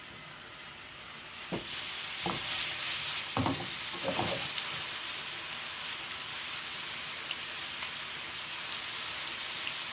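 Small kefta meatballs fry in hot oil in a pan with a steady, soft sizzle and a few louder crackles and pops early on, close by and without any talking.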